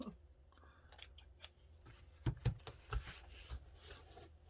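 Scissors snip through paper while trimming a scrapbook embellishment, with a handful of close, quiet cuts and rustling in an irregular rhythm.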